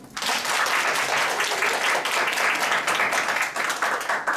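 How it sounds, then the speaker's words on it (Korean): Lecture hall audience breaking into sustained, dense applause that holds steady and loud for several seconds with no talking over it. "여기에 동의하신 박수 한번 주고."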